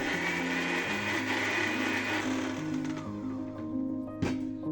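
Close and steady, a blender grinds palm seed and rice into a smooth paste, its motor whining and droning as the pitch shifts slightly while the load churns.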